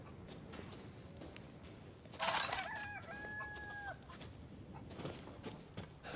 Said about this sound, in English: James, that chicken is asking for it